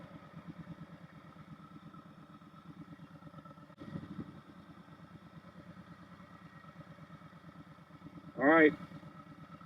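Yamaha Bolt motorcycle engine idling in neutral, a steady low rhythmic thump running throughout, with a brief rev or clatter near the start and a sharp louder burst near the end; a voice speaks briefly.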